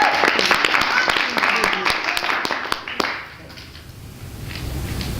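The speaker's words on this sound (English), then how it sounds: "We got to stop and clap about that." An audience at a health coaching award presentation claps, a moderately loud burst of applause with distinct individual claps that dies away after about three seconds into quiet room tone.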